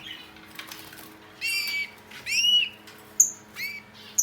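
A young male pet bird sings indoors in short, high, whistling phrases and chirps spaced across a few seconds, loud and close against a faint background hum.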